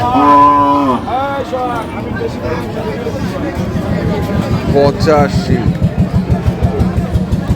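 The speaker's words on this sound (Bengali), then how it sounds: "আমরা দেখি এখানে যে গরুটি রয়েছে" A Sahiwal bull calf at a cattle market lets out a strong, close moo at the start, then a further low call, while people talk and a steady rhythmic thumping runs beneath.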